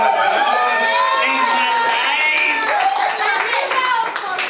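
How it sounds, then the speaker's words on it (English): A stand-up comedy crowd at the Elbow Room bar claps and cheers loudly for a first-time comic, with excited shouts and whoops rising over steady clapping throughout. "Let me give a round of applause."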